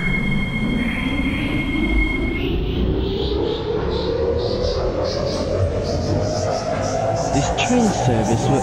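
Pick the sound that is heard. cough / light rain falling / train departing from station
train departing from station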